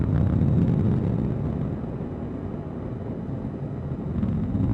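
Deep, steady roar of an Atlas V rocket's RD-180 engine during launch, heard from afar as a continuous rumbling wash that stays loud throughout and dips slightly mid-way.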